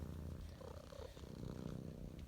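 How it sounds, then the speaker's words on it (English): Shop cat purring close up in an engine workshop, a soft, steady rhythmic rumbling purr that runs continuously and alone at low level. "My favorite shop cat."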